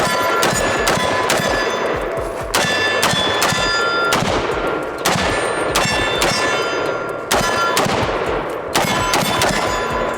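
A Zastava M92 ZPAP AK-pattern rifle fired at a target: loud, sharp shots repeat at intervals of about a second across the clip, each with a metallic ring, and there is no talk.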